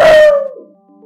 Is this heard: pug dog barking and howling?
yes